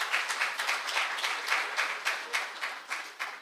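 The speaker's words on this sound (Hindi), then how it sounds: "मैं चाहता हूँ एक बार ज़ोरदार तालियों से मैम" Loud, sustained applause from a seated audience at a poetry recital honoring a guest in a district panchayat hall, dense clapping swelling in steady waves without a break.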